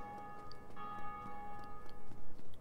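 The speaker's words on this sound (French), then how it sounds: "Et les cloches." Bells ring out in the Dark Souls video game, clear, sustained tones with a ticking, clock-like pulse beneath and no voices.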